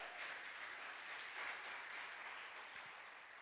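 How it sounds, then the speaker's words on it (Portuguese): Church congregation applauding during a service, a broad even wash of clapping that holds steady throughout, soft and somewhat distant. "um aplauso ao Rei."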